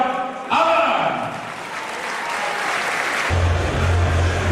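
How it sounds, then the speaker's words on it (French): Crowd at a boxing gala breaking into applause, a short burst of clapping mixed with someone talking over it and a low hum near the end. "sous l'applaudissement, Yohan Aman."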